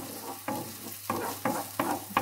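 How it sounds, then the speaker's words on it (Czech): Onion fries in a pan with a steady close sizzle, broken by several sharp scraping stirs at fairly regular intervals. "Cibulka se nám začala smažit."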